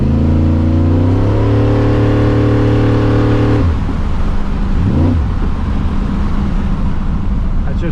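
A 1979 Ford F100 with a 408 stroker engine pulls hard from inside the cab, its revs climbing in a rising drone before shifting into a rougher, deeper surge that keeps building loud and close.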